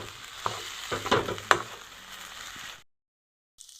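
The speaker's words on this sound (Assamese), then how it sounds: "অলপমান পানী ছটিয়াই দিছোঁ এয়া।" Water splashed into a frying egg mixture in a hot pan sets off a bright, crackling sizzle with a few sharp spatters and stirring scrapes, then fades out into silence.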